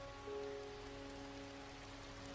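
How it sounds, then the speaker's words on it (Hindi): Heavy monsoon rain pours steadily during a storm on the rocky slopes of Sinhagad (Kondhana) fort, a dense, even hiss of drops striking surfaces close by, with no voices. "इतनी तूफान, इतनी बरसात"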